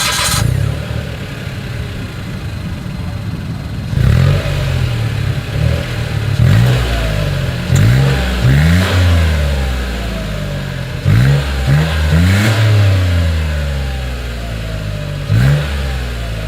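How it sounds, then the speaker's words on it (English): A 2023 Mitsubishi Mirage exhaust rising and falling through repeated revs as it drives, a loud, close engine note swelling in short surges with no talk. "here is that exhaust clip."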